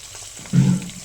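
Onion and green chilies frying in a pan for an okra stew, giving a short burst of sizzling that swells for a moment before settling back to a quieter hiss.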